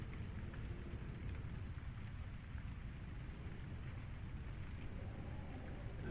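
Steady rain outside a window in autumn woods, a soft continuous wash of drops with low rumbling wind, faint and distant, no voices.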